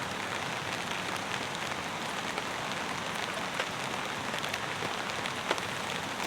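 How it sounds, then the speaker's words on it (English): Steady rain patters on a tarp shelter at a campsite in New Zealand, a dense, even hiss with scattered sharper drops close overhead, continuous and unbroken with no voices. "I love the rain."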